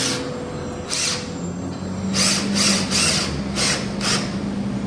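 Cordless drill driver driving a 4x50 screw into wood in several short, loud whirring bursts with brief pauses between them, close to the listener and with no talking.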